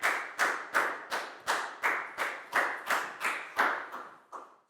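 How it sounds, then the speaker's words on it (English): A Year 4 English class claps together for a student in rhythmic unison, about a dozen sharp, evenly spaced claps in quick succession, close and clear, with no talking over them. "High five and a big round of applause for Nadia"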